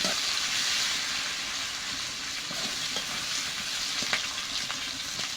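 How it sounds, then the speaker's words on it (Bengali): Potatoes fry with turmeric powder in a pan for an egg curry, a steady hissing sizzle with occasional light stirring taps, heard close and without speech. "আলুগুলো একটু ভেজে নিয়েছি।"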